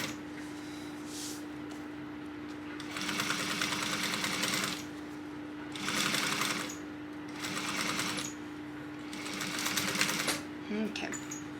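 A sewing machine top stitches a tote bag at a 1/8 inch seam allowance, running in several separate bursts of steady whirring between pauses, close and under a voice talking.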